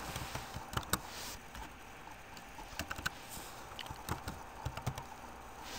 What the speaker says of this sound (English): all you have to do is go into Google and type in router